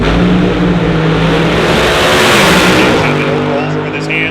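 Funny car drag racing engines roaring at launch during a semifinal, a loud, sustained thunderous blast that swells and then eases, with a commentator talking over it.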